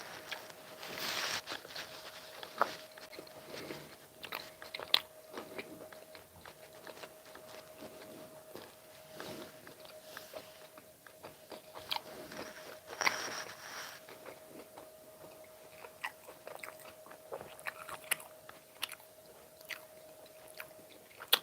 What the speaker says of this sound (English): Let's see if I can get a nice ASMR bite right now.